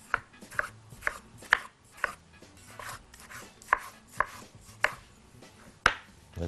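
A knife dices tomatoes into small cubes on a cutting board, about a dozen crisp, evenly spaced chops, close and clear, with no talking.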